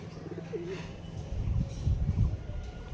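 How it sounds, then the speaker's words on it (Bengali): Pigeons coo in low, throaty, rolling calls, repeated several times close by over a faint background. "এই বাড়ির দুটো পায়রা এদের কাজ শুধু উড়বে"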